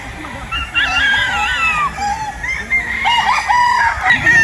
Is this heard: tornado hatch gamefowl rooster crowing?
yes